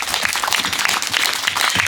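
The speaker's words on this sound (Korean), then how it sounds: "큰 응원의 박수 한번 보내드릴까요?" Applause from an audience at a commemoration ceremony for the Battle of Masan Western Region, steady and dense clapping from many hands, filling the whole moment with no voices above it.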